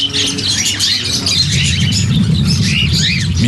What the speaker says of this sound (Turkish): Araç 1500 muhabbet kuşu, 500 papağan ve daha yüzlerce hayvanla doluydu.